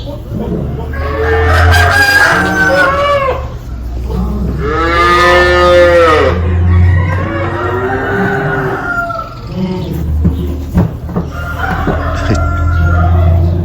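Chickens cluck and call repeatedly, close and loud, in several bursts with pauses between, at a livestock stockyard; other farm animal calls mix in.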